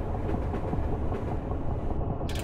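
A Class 325 EMU electric train accelerating in Train Simulator 2013, with a steady rolling rumble and rhythmic clicks of wheels over rail joints that carry on to the end.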